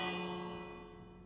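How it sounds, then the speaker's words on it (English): A bell in a Minecraft carnival chance game rings once with a sustained, fading metallic tone, faint and alone. "Ah, there's the bell."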